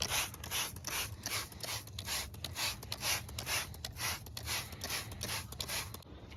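A brush scrubs iron cleaner and brake dust off a BMW E46 wheel, making rapid rhythmic back-and-forth rubbing strokes, close and fairly quiet, continuing steadily without talk.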